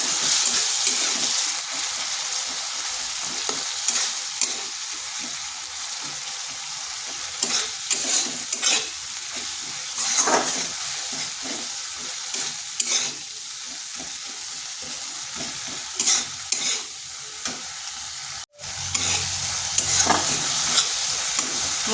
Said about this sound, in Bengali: এরপর মশলাটা বেশ কিছুক্ষণ এইভাবে কষে নিতে হবে।